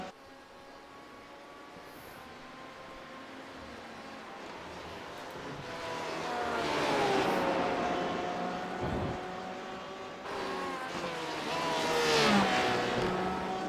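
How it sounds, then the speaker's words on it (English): Onboard engine note of a Porsche RSR race car in a sim racing league at Watkins Glen, NASCAR configuration, steady and fairly loud with rising and falling revs through gear changes and a brief dip mid-run. "On board with Matthew Barbar and his Porsche RSR."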